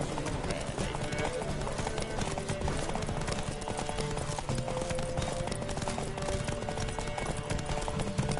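Rapid hoofbeats of galloping horses in a race in The Witcher 3 pound steadily under a busy mix of game sounds, with voices speaking over the rhythmic clatter.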